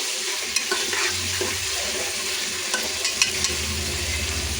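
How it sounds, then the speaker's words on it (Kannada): Ginger garlic paste for chicken biryani frying in hot oil makes a steady, close sizzle with scattered small pops and faint stirring scrapes, and no talk. "ಆದ್ದರಿಂದ ಅದು ಎಣ್ಣೆಯಲ್ಲಿ ಬೇಯಬೇಕು ಚೆನ್ನಾಗಿ."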